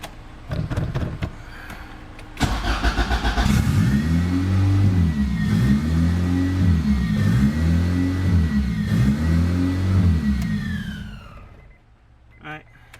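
A boosted F23 Honda Accord engine cranks briefly, fires up and settles into a loud, close running note with repeated rising and falling revs, then cuts out near the end.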